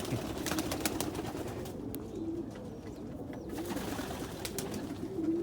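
Pet doves or pigeons coo softly in a low, repeated murmur, with a few faint higher chirps and light background rustle, the calls close but quiet throughout.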